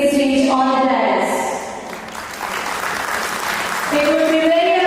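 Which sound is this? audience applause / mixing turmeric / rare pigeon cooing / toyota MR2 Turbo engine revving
audience applause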